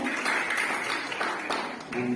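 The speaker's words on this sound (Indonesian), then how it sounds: "Boleh dong, tepuk tangan." Brief burst of audience applause at a school work-culture workshop in a vocational high school in Sukabumi, Indonesia; steady, fairly loud clapping throughout the short moment with some voices mixed in.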